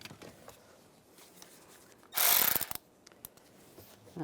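Ratchet tightening the exterior mirror nuts on a 2013-2016 Dodge Dart: a single short burst of rapid clicking lasting about half a second, close and fairly loud against an otherwise quiet background.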